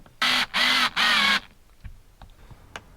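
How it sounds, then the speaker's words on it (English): A powered driver runs Torx screws into a Fiamma Turbo roof vent frame on the roof of a VW T4 van. The motor whines in three short, loud bursts, followed by faint handling knocks. "I'm now going to screw in these Torx screws."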